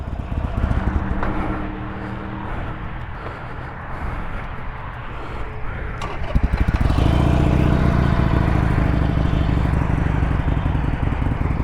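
A motorcycle putters along slowly with a low, rough engine rumble that is fairly quiet at first, then grows fuller and louder partway through as it keeps rolling.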